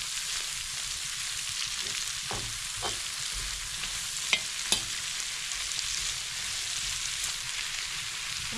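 Steady, dense sizzling of meat, carrot and onion frying in a pan for borscht, with a few soft stirring knocks and clicks scattered through.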